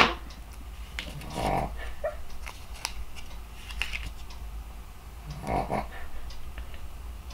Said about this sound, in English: My dog is down here snoring up a storm.